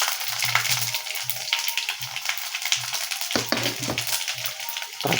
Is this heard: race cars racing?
no